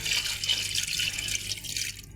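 Water from two glasses poured into a cooking pot of beef pulao, a steady close splashing stream lasting the full two seconds with no talking.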